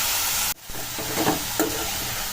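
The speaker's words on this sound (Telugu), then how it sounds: "ఇప్పుడు ఇందులోకి మనం ఇందాక కడిగి పెట్టుకున్న వంకాయ ముక్కలని ఇందులోకి వేసుకోవాలి పోపులోకి." Long brinjal pieces hitting hot tempering oil in a pan, with a loud hissing sizzle that cuts briefly and resumes, and stirring scrapes under the frying.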